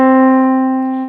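A single sustained reference pitch C4 for singing practice, a clean steady tone rich in harmonics that holds for about a second before fading out, loud and alone.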